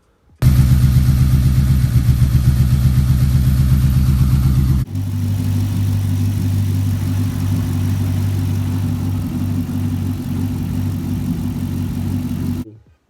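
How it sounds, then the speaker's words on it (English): A car engine runs after its fuel injectors, spark plugs and spark plug wires were replaced. A loud, rapidly pulsing idle gives way after a few seconds to a smoother, steadier hum that continues until it stops. "I'm gonna put a video of how the engine is running now."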